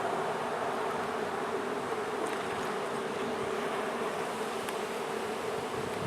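Honey bees buzz during an open hive inspection, a dense, steady, close drone of many wings with no pause, and a few brief sharper ticks rise over the swarm's hum.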